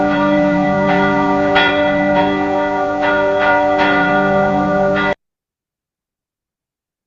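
A bell tone produced by data sonification from a bell image rings for about five seconds, a sustained harmonic hum struck by several brighter repeated chimes, then cuts off abruptly to silence.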